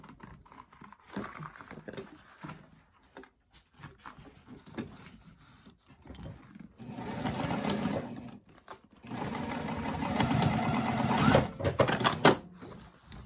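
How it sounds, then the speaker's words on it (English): Sewing machine stitching boxed corner seams on a pencil pouch. Quiet fabric handling comes first, then two bursts of close, rapid whirring stitching, the second one longer. "stitch using a 1/4 inch seam allowance"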